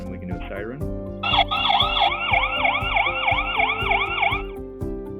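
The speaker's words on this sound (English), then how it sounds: "then we can do a siren" A loud electronic siren from an outdoor WiFi security camera wails in rapid repeating sweeps for about three seconds over a background of rhythmic music, then cuts off.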